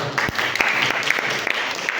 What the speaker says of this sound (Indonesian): Tepuk tangan untuk buat Mas Cesar.